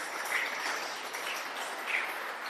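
Audience clapping at a herbs book presentation for an ethnobotany program at Rose Hall, a steady wash of applause with no voices over it, fairly soft and continuous for a couple of seconds.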